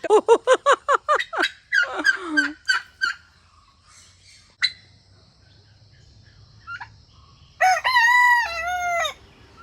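Roosters crow nearby, a rapid stuttering call at the start and a long loud cock-a-doodle-doo near the end, with quiet gaps between.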